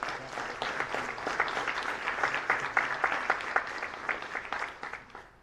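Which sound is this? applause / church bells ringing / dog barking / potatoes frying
applause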